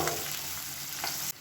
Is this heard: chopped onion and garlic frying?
yes